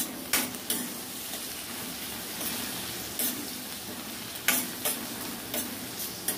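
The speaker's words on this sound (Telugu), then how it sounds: "కొంచెం దొండకాయ వేగాగో కదండి" Ivy gourd pieces fry with curry leaves and turmeric in a pan, a steady sizzle punctuated by repeated spatula scrapes and stirring clatters at irregular intervals, close up with no voices.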